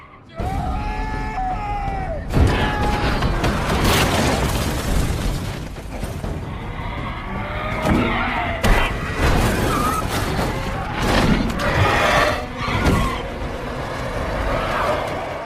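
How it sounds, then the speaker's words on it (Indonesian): In a film about a city full of Darkseekers, a car smashes blindly through the creatures, with repeated heavy impacts, crunching booms and snarling cries over a dense, loud rumble of chaos. "Robert dengan membagong buta menabrak semua Darkseeker yang ada di sana"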